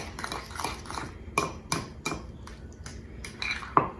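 Deviled egg filling of mashed yolk and mayonnaise is mixed in a bowl, giving a series of irregular clinks and scrapes from a utensil knocking against the dish, fairly close and quiet, with no talking.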